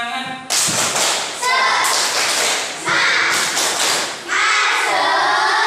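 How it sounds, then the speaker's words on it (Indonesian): A group claps the rhythmic 'tepuk semangat' spirit clap in a classroom session, with sharp, loud bursts of clapping in uneven rhythmic phrases and short pauses between them. "Tepuk semangat."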